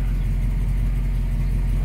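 A 1969 Dodge Charger Daytona engine idles steadily at about 650 rpm, a continuous low rumble that stays even and close throughout, with no talk over it.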